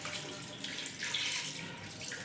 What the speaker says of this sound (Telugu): ఓన్లీ మనం ముక్క మునిగేంత వాటర్ వేసుకోవాలి